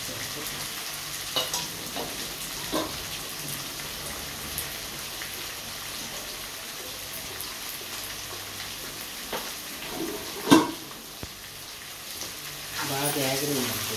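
Curry leaves, chopped onions and green chillies frying in an oil-filled pan for upma, a steady close sizzle with occasional stirring scrapes and a brief loud clatter near the end.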